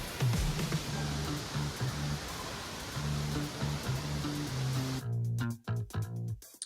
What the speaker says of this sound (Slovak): môžete tu počuť aj ten šum vody, ktorý tu je